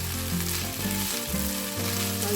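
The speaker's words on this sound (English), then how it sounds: "just make sure that all your sabudana is nicely coated with oil. Stir it well." Sabudana (sago pearls) frying in oil in a pan while being stirred: a loud, steady close-up sizzle with soft stirring scrapes running throughout, no voices.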